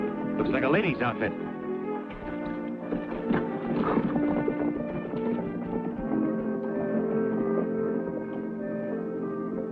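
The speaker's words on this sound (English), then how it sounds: "Loose horse." Hooves clip-clop at a steady pace beneath people talking, with background music and a brief whinny early on, from a loose horse in an old Western film.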